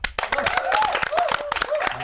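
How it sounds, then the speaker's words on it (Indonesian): A podcast audience claps for the sponsors. Scattered hand claps mix with cheerful voices and laughter, and the lively room noise stays close and busy throughout. "Tepuk tangan dulu dong"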